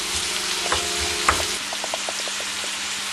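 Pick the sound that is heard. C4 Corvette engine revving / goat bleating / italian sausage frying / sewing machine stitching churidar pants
italian sausage frying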